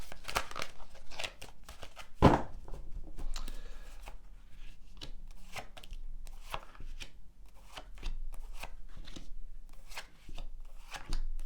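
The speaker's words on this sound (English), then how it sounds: "So just going to shuffle the cards" Tarot cards being shuffled close up, a run of quick papery riffles and soft slaps with one sharp snap early on, no voices.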